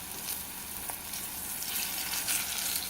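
Plantains sizzle steadily in a hot frying pan, a close, continuous crackling hiss with occasional sharper pops and no voices.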